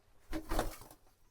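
An adult female pigeon, weak and unpaired, gives a single soft coo of about half a second, close by and fairly quiet, with no voices.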